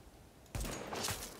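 A gunshot fired in a first-person shooter game set in New York, aimed at an enemy's head: a loud, sudden blast with a rolling tail, followed by a second burst, preceded by quiet.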